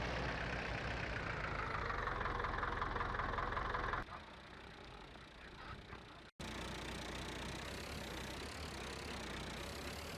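A Ferguson tractor idles in a farmyard during grain loading, giving a steady, close diesel rumble that drops in level partway through, breaks off for an instant, then carries on evenly with no voices.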